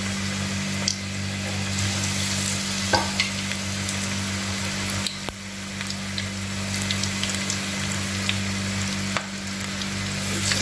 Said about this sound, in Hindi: अभी देखो सब फ्राई हो रही, बस इसको फ्राई करके मैं निकाल दूंगी